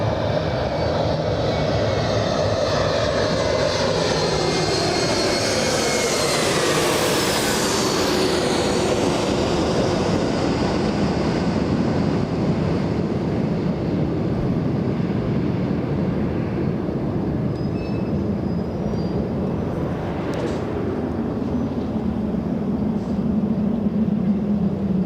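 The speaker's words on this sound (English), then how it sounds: "Is that the sound from the E175?" An Embraer E175 jet arriving from San Jose, California, at Los Angeles International Airport gives a loud, close roar. A rising then falling whine sweeps through the middle as it passes, and a broad rumble stays under it for the whole stretch.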